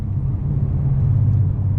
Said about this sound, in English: I'm gonna do a little second gear downshift right here.